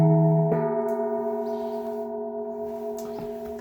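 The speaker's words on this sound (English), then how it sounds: "Same thing with the Vietnamese gong here." A Vietnamese gong is struck once with a mallet on a harmonic node, giving a bright, sustained ring with clear steady overtones that decays slowly, plus a faint second touch near the end.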